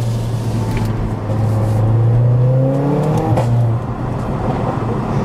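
A four-cylinder AMG car engine in Sport Plus mode revs up hard and close, its note climbing steadily in pitch before dropping back to a steady idle-like drone, with no voices present.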